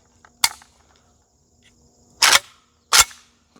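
Zastava M70 rifle fired with a tank-style muzzle brake: three sharp, loud shots, one early and then two close together about two seconds later, each cracking out and decaying quickly into a quiet outdoor background.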